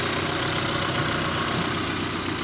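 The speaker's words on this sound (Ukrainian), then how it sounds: "Мотор працює добре." A Volvo V50 1.6 petrol engine idles steadily, a continuous rumbling drone with no breaks or voices.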